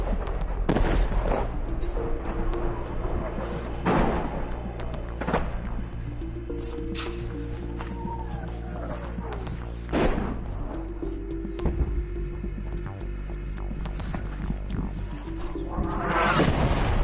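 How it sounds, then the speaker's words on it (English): Artillery fire along a front line, heavy booms recurring at irregular intervals amid a constant low rumble, with distant whistling tones between blasts. "Russian artillery is constantly pounding the entire front line with fire."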